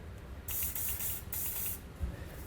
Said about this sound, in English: Just use the same method of spraying the hanger down